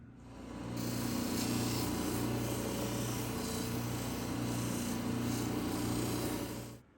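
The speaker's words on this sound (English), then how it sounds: "Next will be the 3000 grit soft diamond wheel." A stone cabochon pressed against a 3000 grit soft diamond polishing wheel, giving a steady close whirring rub over a low motor hum, continuous for several seconds with no talk.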